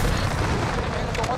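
Gunfire and explosive booms fill a Call of Duty: Modern Warfare multiplayer match in a continuous dense rumble, with game voice callouts mixed in.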